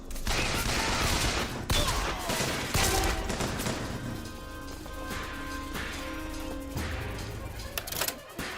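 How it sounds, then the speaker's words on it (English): Bursts of gunfire from a first-person shooter, BioShock Infinite, rattling in rapid volleys over dense game noise, with a faint voice underneath. "I'm waiting for them to be visible so I can shoot them."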